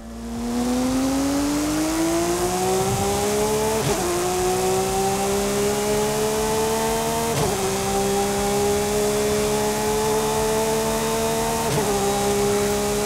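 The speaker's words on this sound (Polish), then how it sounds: "Posłuchajmy opcjonalnych silników" A flat-six engine of nearly four litres in Forza Horizon 5, droning loudly and steadily as it climbs through the revs, with three brief dips at gear changes before pulling on again, no voices over it.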